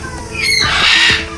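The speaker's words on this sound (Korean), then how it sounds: "마카오 앵무새." A macaw parrot at a seaside park zoo lets out loud, harsh, piercing squawks, a rising burst of shrill calls close by, with other birds faintly in the background.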